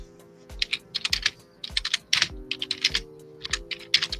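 Rapid, uneven clatter of typing on a mechanical computer keyboard, close and crisp, with bursts of keystrokes and short pauses throughout and a faint steady hum beneath.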